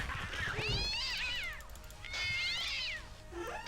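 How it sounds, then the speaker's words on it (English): A cat in a video game yowls loudly, two long drawn-out meows that rise and fall, close and piercing, with no other sound besides faint background noise. "I understand that cats sound somewhat like this in real life, but my goodness, they're just so loud"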